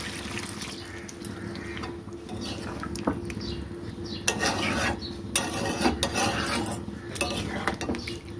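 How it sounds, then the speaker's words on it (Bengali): Water poured into browned, slow-cooked meat for a home-style biriyani, splashing and sloshing with the clink of a utensil against the pot, close and steady with a louder burst midway. "এবার আমি দিয়ে দেবো এটার মধ্যে জল। আমি দিয়ে দিচ্ছি জল।"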